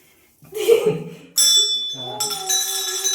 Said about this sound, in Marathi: किती वेळाने घंटा वाजलेला आहे.